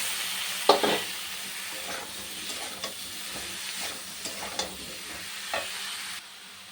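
Ridge gourd added to onion frying in oil, a soft sizzle with several distinct stirring clinks and scrapes of a utensil against the pan, fairly quiet and close.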